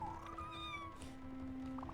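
A cat meows in a video game, giving one drawn-out, clear meow followed by a softer second call over a quiet, steady game background with faint tones.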